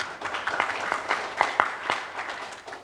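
Light, scattered applause from a modest audience at an ornamental pigeon contest in Lawang, clapping unevenly at a moderate distance with a few louder claps standing out, and no talk over it.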